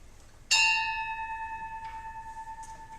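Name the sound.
bell rung once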